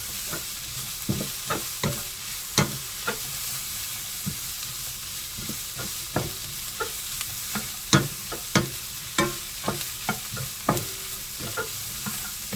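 Fish cake stir-fried in a pan over high heat, with a steady sizzle and frequent sharp scrapes and clacks of a utensil stirring, close and fairly loud, no talking.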